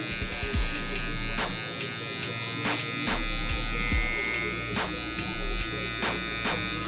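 Hair clippers hum close and steady while cutting a high taper haircut, with repeated short strokes and light clicks over the constant motor buzz.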